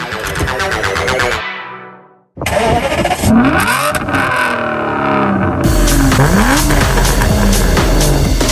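Aston Martin DBS V12 with a straight-pipe exhaust cranking and firing up close by, then revving hard in repeated rising and falling bursts, loud and alone without voices.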